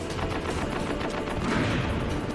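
Continuous tank machine-gun fire in Metal Gear Solid, a dense, steady rattle of rapid shots blending into a loud, unbroken roar without any pauses, with no one speaking.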